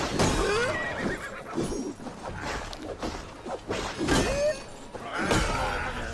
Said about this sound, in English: Look at this horse getting in my way.